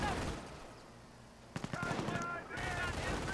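Machine gun fire in Company of Heroes, a World War II strategy game, erupts in one short, sharp burst of rapid shots lasting about a second, set against a murky background rumble of battle.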